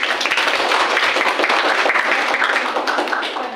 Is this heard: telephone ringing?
no